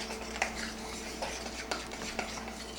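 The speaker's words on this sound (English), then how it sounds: "now we're going to stir this all together" Brownie batter being stirred in a bowl, with repeated light clinks and scrapes of a utensil against the bowl at an irregular pace, close and fairly quiet, no talking.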